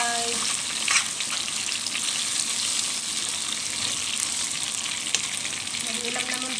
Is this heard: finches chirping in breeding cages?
no